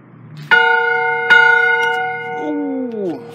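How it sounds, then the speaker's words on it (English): A hand-rung bell outdoors in New Mexico, struck twice with bright ringing tones that sustain and slowly decay, close and loud, with a brief low voice before the first strike. "It looks like I can ring this bell, so I'm gonna give her a go."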